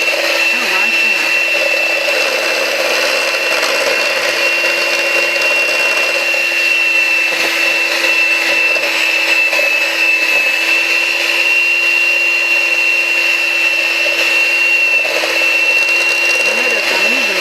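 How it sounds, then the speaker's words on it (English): Electric mixer whirring steadily while mixing sugar cookie dough, a continuous loud motor drone with a high whine that runs the whole stretch, with occasional voices in the background. "you can turn the mixer off if you want to, and scrape down the sides."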